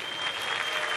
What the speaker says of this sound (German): Einen großen Applaus für unseren Nubbel Mike Hehn.